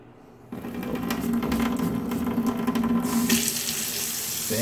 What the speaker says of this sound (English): The Myhb, I do believe, faucet. There we go, we got the swivel.